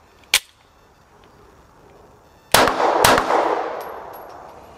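Gunshots at an outdoor shooting range, a single sharp crack, then a quick double tap of two close shots with a ringing tail, recorded near the shooter.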